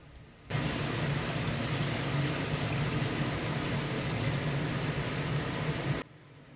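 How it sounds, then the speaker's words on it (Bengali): Water pours steadily into frying masala for a koi fish curry in a pan, a continuous rushing, sizzling pour lasting several seconds before stopping abruptly. "জল দিয়ে দেব।"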